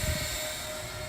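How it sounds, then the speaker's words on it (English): Rotormast V22 model tiltrotor aircraft flying in helicopter mode, a steady whirring rotor and motor drone heard at a moderate distance, brief and unbroken. "In helicopter mode, it'll fly around just like a model helicopter."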